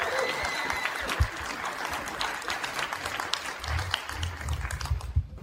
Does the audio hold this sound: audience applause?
yes